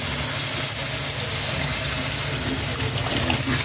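Water pours steadily into a cooking pot, a continuous close splashing and filling sound with no talk over it.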